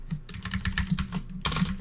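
Someone types on a computer keyboard during a complexity theory lecture stream. Quick irregular key clicks and clacks come close to the microphone with no speech.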